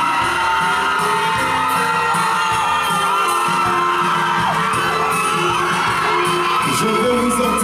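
A dense carnival crowd in Guadeloupe shouts, whoops and cheers continuously and loudly, with bangs and children's yells mixed into the roar throughout.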